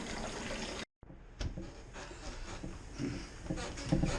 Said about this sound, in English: now you're supposed to stir it and get the gravity